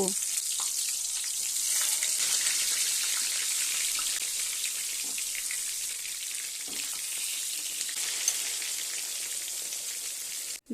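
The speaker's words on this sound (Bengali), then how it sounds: "তেল গরম করে নুন হলুদ মাখানো বেগুনগুলিকে একে একে দিয়ে দেব।" Eggplant slices coated in salt and turmeric fry in hot mustard oil in a wok, giving a loud, steady, close sizzle that continues evenly with no talking.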